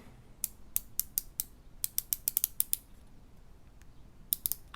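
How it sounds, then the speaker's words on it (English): A Luminox watch bezel turned by hand gives crisp, close, quiet clicks, some in quick runs and some spaced apart, with a short pause before a final burst. "Then we get into the bezel clicking."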